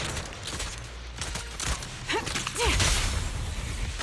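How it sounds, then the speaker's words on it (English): Long-range shots from Grim Vulture in Zenless Zone Zero: a burst of sharp gunfire cracks and whooshing energy sweeps over a busy game soundscape, with rising chirp-like tones near the middle and loud layered effects toward the end. "Watch out for Grim Vulture taking shots from afar."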